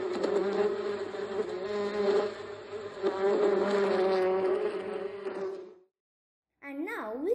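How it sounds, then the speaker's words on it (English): A bee buzzes close by around a Venus flytrap, a steady loud hum with a rich harmonic drone that holds for about six seconds, cuts off briefly, then returns with a wavering pitch as the insect moves. "the bee flies away to another"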